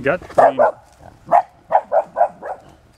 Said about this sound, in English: Dogs got something to bark at there.